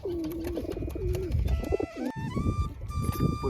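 A pigeon released outdoors coos nearby in low repeated throaty phrases, over faint background noise with a few higher whistling tones.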